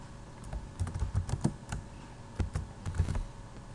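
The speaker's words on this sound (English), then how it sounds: "I can actually type in my name." Someone types a name on a computer keyboard in short bursts of crisp key clicks, with pauses between the clusters of strokes. No one speaks.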